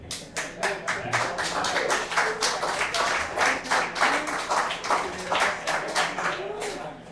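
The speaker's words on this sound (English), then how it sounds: "If you're an audience member and you know it, clap your hands." Comedy audience clapping hands together in a rhythmic unison beat, steady and fairly close, a little over two claps per second with a voice faintly audible in the background.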